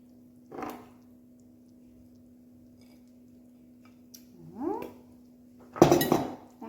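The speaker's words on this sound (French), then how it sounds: "on va remplir nos plats de cette préparation" Spoons clink against baking dishes as a spaghetti squash mixture is scooped in, a few scattered taps and scrapes followed by a louder cluster of clatter near the end, over a steady low hum.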